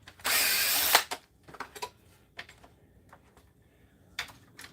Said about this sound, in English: So to take the board out, 1, 2, 3, these screws come out.